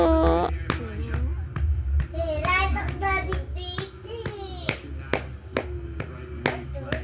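A child's back is patted during cough therapy, sharp slap-like taps repeating at irregular intervals, close by, with a voice and adult talk mixed in between.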